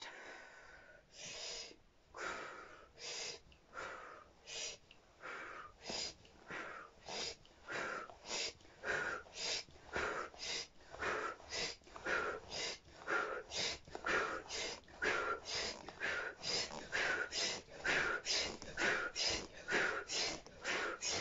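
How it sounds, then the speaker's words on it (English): Rapid, forceful breaths in and out during a kundalini yoga entry class, about thirty sharp, evenly paced puffs over twenty seconds, close and loud with no talking. "Deep breath in and out."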